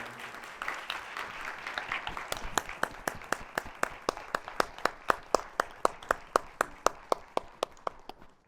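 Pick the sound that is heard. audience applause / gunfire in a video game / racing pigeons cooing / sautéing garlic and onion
audience applause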